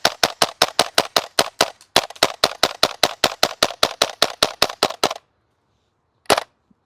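A Krytac KRISS Vector gas blowback airsoft SMG fires rapid semi-auto shots, a steady run of over two dozen sharp cracks close up, then a pause and one final shot.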